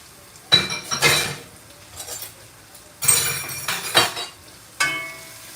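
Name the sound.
stirring yellow rice with beef in a pot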